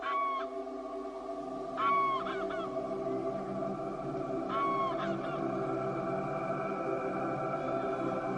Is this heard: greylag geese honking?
yes